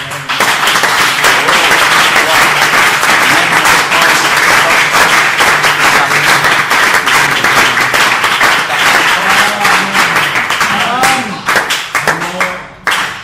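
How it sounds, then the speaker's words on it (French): Loud, dense applause and clapping from a church congregation fills the space, holding steady for most of the stretch before thinning into scattered claps near the end, with a few voices calling out. "Acclame"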